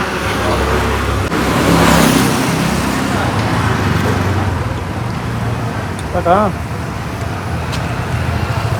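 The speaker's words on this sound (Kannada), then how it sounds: "ಇವಾಗ ನಾವು ಡ್ರೈವಿಂಗ್ ಮಾಡುತ್ತೇವೆ." Steady road traffic heard from a car driving through a busy street, a continuous engine and tyre rumble with passing vehicles, and a brief voice rising over it near the end.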